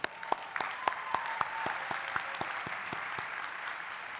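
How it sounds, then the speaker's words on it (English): Audience at an EMBA class recognition ceremony clapping, a dense, fairly quiet patter of applause with a few sharper claps standing out near the start. "And now I want to give all of you a round of applause."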